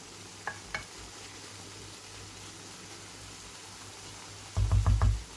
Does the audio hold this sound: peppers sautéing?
yes